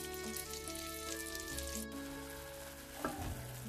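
Onion frying in butter in a pan, a steady close sizzle with soft crackles and a brief stirring knock near the end.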